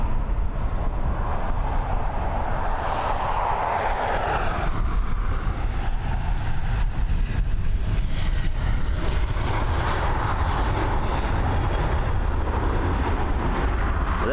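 A passenger jet takes off from the Dublin Airport runway, a loud sustained engine roar that swells and then slowly shifts in tone as the aircraft climbs away, with no speech.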